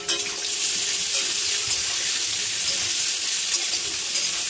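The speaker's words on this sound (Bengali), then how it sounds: "এবার পেঁয়াজ কুচি দিয়ে দিলাম।" Chopped onion hits hot oil in a pan with potatoes and fries with a steady, loud, continuous sizzle that holds evenly throughout, with no talking.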